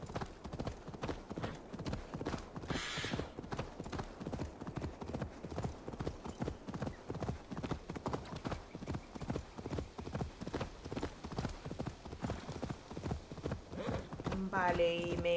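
In Assassin's Creed Valhalla, a horse gallops with a steady, fast clip-clop of hooves that runs the whole time at a close, even level, with a brief whinny near the end.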